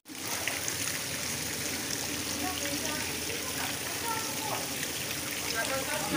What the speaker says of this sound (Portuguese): Muita água. Isso aí ficou vazando o dia inteiro